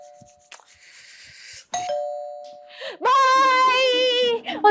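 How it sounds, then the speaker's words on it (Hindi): A doorbell rings twice in a household scene, a two-tone chime at moderate loudness, followed by a person speaking loudly and expressively over it. "और दरवाजे पर बेल बज रही है।"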